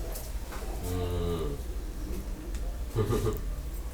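A cow moos in a village, one long low call near the start with a shorter grunting low a moment later, amid outdoor background noise.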